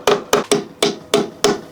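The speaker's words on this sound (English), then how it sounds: "Tap a good little indent in there, tap one in all of them." A hammer strikes a metal punch six times at a steady pace, marking the centres of spot welds on a GT86 body during a Grannas T56 gearbox install. Each hit is sharp, close and loud with a short ringing decay, with no talk.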